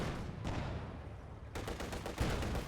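Distant gunfire in a Company of Heroes 2 battle, a steady rattle of small-arms and machine-gun shots under low rumbling ambience, growing denser and heavier in the later part.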